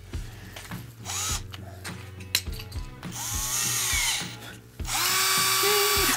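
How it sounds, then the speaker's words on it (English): A power drill spins a Harley Benton multifunctional string winder for guitar, whirring in several bursts that rise and fall in pitch, with short pauses and mechanical clicks between runs, close and fairly loud. "you can also get rid of that one and put that one on a drill."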